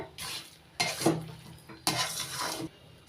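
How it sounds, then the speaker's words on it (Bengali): Taro greens stirred with sugar in a pan, with bursts of scraping and soft sizzling in separate strokes, close and fairly quiet. "এবার দিয়ে দিচ্ছি হাফ চামচ চিনি কচুর সঙ্গে ভালো করে মিশিয়ে নিচ্ছি চিনিটা"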